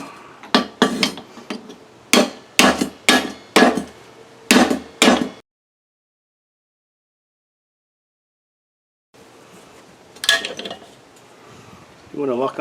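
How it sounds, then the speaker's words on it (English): Hammer blows on locking vise grips clamped to a roll spring pin in a Borg Warner 1305/1339 Quadratrac transfer case, a burst of sharp metallic strikes in quick clusters, then silence, then a few softer knocks and clatter. "and then do a little hammering on that vice grips."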